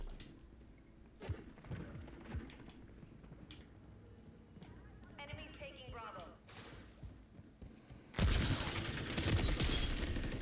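An automatic weapon trap firing in Call of Duty MW3 gameplay: scattered pops and shots, then a loud burst of sustained fire near the end, with a voice talking over parts of it.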